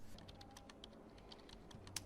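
Keyboard typing from a detective video game, a run of quick, soft, evenly spaced key clicks at low level with a faint hum beneath and no talking.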